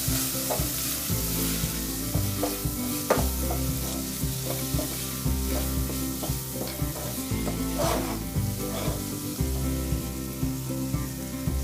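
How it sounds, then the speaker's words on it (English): Green peas and spices sauté in a pan, producing a dense, continuous sizzle with repeated scraping stirs of a utensil, close and moderately loud, with no voices. "Once the green peas get cooked, add all the spices and again saute for another 2 to 3 minutes."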